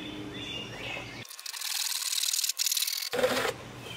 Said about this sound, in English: I'm going to cut a 1-inch ring off the bottom of this 2-foot pipe